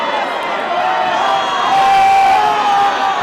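A wrestling event crowd roars in a large arena, a dense continuous wash of cheering and shouts that swells slightly midway, loud and sustained.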